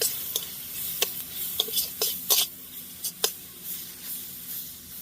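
Cumin paste and turmeric powder being sautéed in a pan for a hilsa-style oil-and-chili fish curry, heard as a run of brief, sharp scraping stirs over a faint, steady low sizzle, close and fairly quiet.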